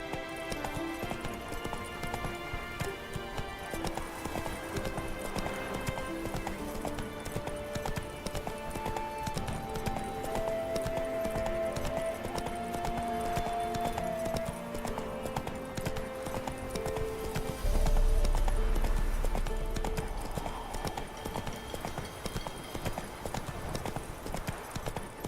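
Horse hooves gallop in a steady clip-clop rhythm in The Witcher 3, continuous and fairly prominent over layered game music and ambience, with a brief low rumble partway through.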